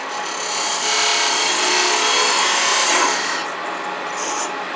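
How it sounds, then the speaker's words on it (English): A parting tool cuts into wood spinning on a lathe, a close, steady scraping hiss that swells for a few seconds and then eases off, with no talking. "So let's do that with parting tool, which is also used for dimensioning."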